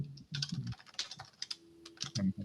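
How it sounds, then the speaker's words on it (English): Loud, close typing on a computer keyboard during an online meeting, a fast irregular run of sharp clicks and clacks with brief pauses. "I muted you because you're typing loud"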